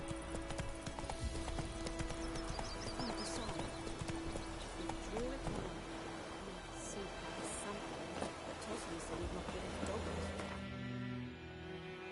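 Roach, the horse in The Witcher 3, clip-clops along at a steady trotting rhythm, close and continuous, beneath a voice talking and dense game background sound.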